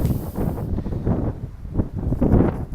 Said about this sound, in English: It's going to get a little windy, so I apologize in advance.